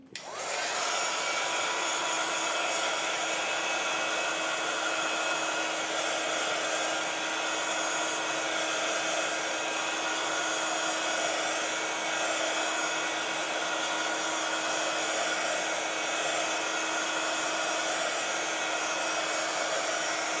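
A heat gun blows steadily for about twenty seconds while drying a page of a handmade craft calendar notebook, a loud continuous hiss-and-whir held at an even level, close to the microphone with no talking.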